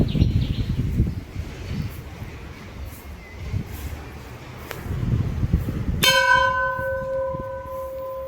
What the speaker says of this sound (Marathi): घंटा वाजवला आणि घंटा वाजवून हनुमानाचं दर्शन घेतलं पाहिजे आपण।